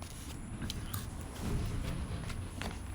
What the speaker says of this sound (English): I'm eating a salad, so I hope y'all don't hear me crunching away on the salad